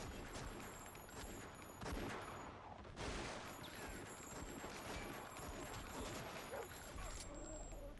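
Gunfire in the action game Dead to Rights: a dense, continuous barrage of shots and loud bursts fills the whole stretch. Game noise stays busy throughout, and some voice-like sound may sit underneath.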